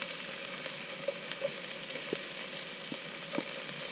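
Chilies frying in a pan for chicken ramen cooked outdoors from the back of a van, a steady close sizzle with scattered crackles and small pops throughout.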